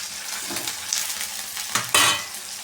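Ingredients sizzle in a frying pan for cumin tomato sambar, a steady close hiss broken by a few sharper bursts as the spoon stirs, the loudest near the end.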